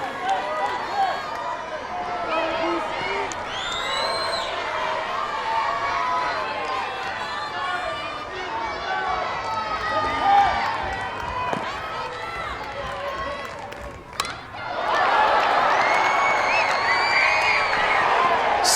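A large stadium crowd cheers steadily throughout a women's college softball game between Arizona and Ole Miss, with a commentator talking over it and a louder swell of crowd noise near the end.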